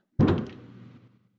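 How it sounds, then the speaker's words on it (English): A door slams shut as an audio drama effect: one sharp, heavy thud with a short rattling tail that fades within about a second. "she ran out of the place and the door slammed shut"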